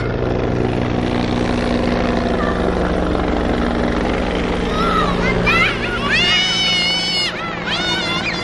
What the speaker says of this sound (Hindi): इनको हल्की हल्की आवाज आ रही जहाज की।